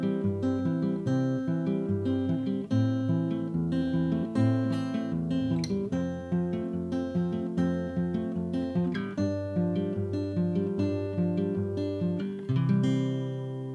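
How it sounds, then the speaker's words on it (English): Acoustic guitar fingerpicking a Travis-style folk pattern, a steady alternating bass thumb under plucked treble notes through changing chords, bright and close with a steady, rolling rhythm and no voices. "This one's called Travis Style, one of folk music's most popular finger picking patterns"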